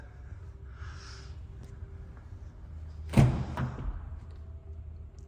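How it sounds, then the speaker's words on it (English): A heavy door on a 2021 Toyota Land Cruiser Heritage Edition swings shut with one solid, close thud midway through, set against a low, steady background hum. "Just love how heavy these doors are."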